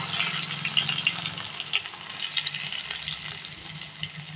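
Crushed garlic tempering fries in hot oil, giving a continuous, fairly soft hiss with faint crackles and spatters. It runs on with no voices.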